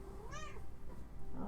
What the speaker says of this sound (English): That's my sweet, perfect, happy cat.